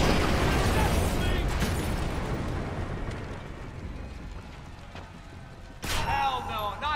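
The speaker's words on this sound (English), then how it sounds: "Grenade, get down!" A loud, rumbling grenade blast roars up close in the Splinter Cell Conviction video game and slowly decays, followed by a fresh burst of crackling gunfire near the end, with voices shouting.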